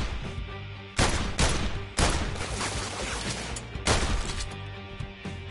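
Rapid gunfire from the VR heist game The London Heist, with sharp loud bursts at about one-second intervals over a dense, continuous crackle of shots.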